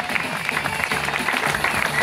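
Dense, steady applause from an audience at the awards ceremony of the 2013 Warclubs charity run, with many hands clapping at once, close and loud throughout, with some crowd noise mixed in.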